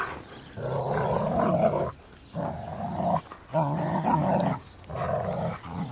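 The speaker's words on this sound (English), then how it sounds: "He does sound like a crazy dog" A Rottweiler at a doggy daycare growls and rumbles in three long, loud bursts separated by short pauses, close to the listener, during a tug game with other dogs.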